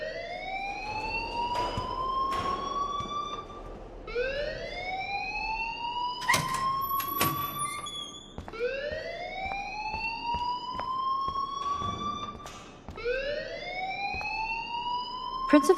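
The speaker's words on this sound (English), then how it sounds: "please turn off that alarm since that's your job" Rising, repeating electronic alarm whoops from a school fire alarm in the Life is Strange video game, four long upward sweeps cycling steadily and loud, with brief sharp clatters between them.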